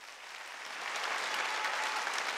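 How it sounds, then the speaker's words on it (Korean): A church congregation at a Wednesday worship service breaks into steady applause for standing elders, a dense, even wash of clapping that swells slightly and holds without speech. "박수 쳐줘요."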